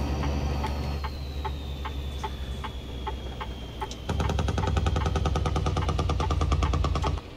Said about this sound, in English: it straight up sounds like a Huey